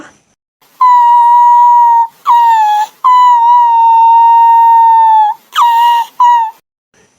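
Loud, clear tonal whistling in a cartoon classroom: a long held steady note followed by several shorter bursts with pitch slides, in separate phrases with brief gaps, heard alone with no talk.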